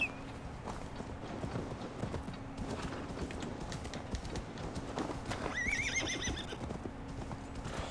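Horse hooves clip-clop steadily at a trot in the video game Assassin's Creed Valhalla, with a horse whinnying partway through and a low steady hum.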